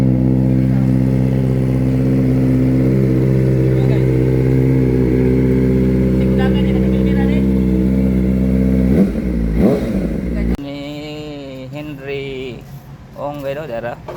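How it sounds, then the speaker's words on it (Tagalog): Kawasaki Ninja ZX-4RR motorcycle with an Austin Racing exhaust sits running, giving a loud, steady rumbling drone for several seconds. The engine then cuts off and people talk. "nindot ang tambutso Austin Racing"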